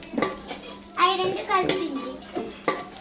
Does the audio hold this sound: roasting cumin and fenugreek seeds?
yes